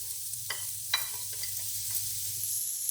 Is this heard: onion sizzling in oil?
yes